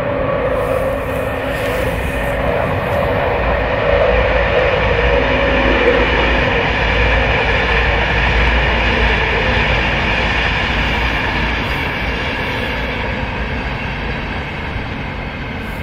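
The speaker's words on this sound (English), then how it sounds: "Train's still going past, as you can hear." A train rumbles steadily past nearby, a continuous roar of wheels and carriages that holds for the whole stretch without letting up.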